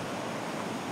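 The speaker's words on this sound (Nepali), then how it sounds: "पाइप पानी चाहिँ सरर गएको" Water gushes steadily out of a pipe at a drinking-water spring source, a loud, unbroken broadband rush with no pauses.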